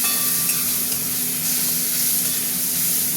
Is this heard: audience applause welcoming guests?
no